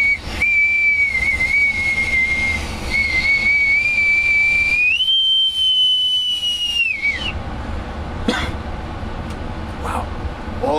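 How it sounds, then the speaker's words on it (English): A bosun's whistle from the 1980s, bought in Newport, Rhode Island, is blown in one long, loud, shrill breath that steps up in pitch and then cuts off. Some hissy noise follows. "with my authentic bosun's whistle that I got back in the 1980s in Newport, Rhode Island"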